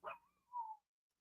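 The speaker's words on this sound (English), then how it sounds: "excuse the dog barking in the background." A dog barks somewhere in the background, giving one short, fairly faint yelping bark that trails into a drawn-out whine before silence.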